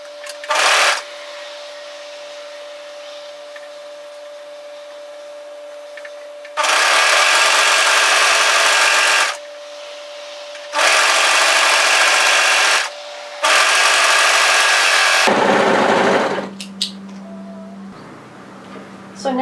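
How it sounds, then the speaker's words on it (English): An overlocker sews the side seam of a wrap hoodie in three loud, steady bursts of several seconds each, separated by quieter gaps with a low hum. A short clatter follows near the end. "we're going to overlock the side seam from exactly the same place that we did on the other side"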